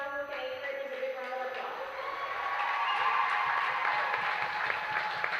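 A gym crowd at a junior high girls' basketball game breaks into sustained, dense applause for the eighth-grade players, building after a brief stretch of talk and holding steady to the end.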